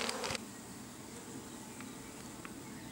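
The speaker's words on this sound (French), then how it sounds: "Ici, on a une ruchette avec un essaim qu'on a descendu du haut du noisetier là hier." A honeybee swarm hums faintly and steadily at an apiary hive, housed in a small nucleus box after being brought down from a hazel tree. A few brief knocks sound near the start.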